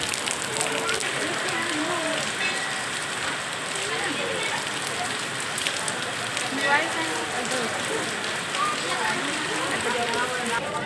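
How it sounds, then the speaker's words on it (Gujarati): Steady rain hisses across the whole stretch, with a continuous dense patter and occasional drips from the eaves, fairly close, loud and even throughout. "જો નેવા પડવા માંડ્યા છે, વરસાદ ચાલુ થઈ ગયો છે"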